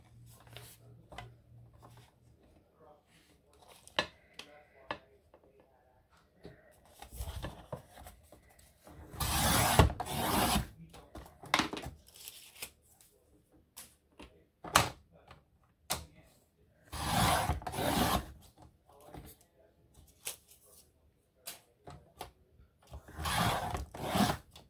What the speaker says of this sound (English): Just be patient with your trimmer.